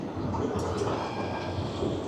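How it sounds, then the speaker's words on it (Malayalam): A steady low rumble of a tram rolling past on a street in Milan, Italy, with faint rattling. "ഞങ്ങൾ ഇരിക്കുന്നതിൻ്റെ ഫ്രണ്ടിൽ കൂടെ ട്രാം ഇങ്ങനെ ബസ് പോകുന്ന പോലെ അതാ വരുന്നത്"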